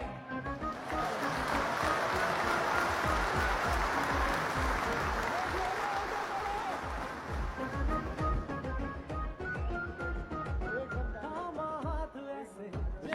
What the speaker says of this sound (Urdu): آپ کی بھرپور تالیوں میں ریحان زیب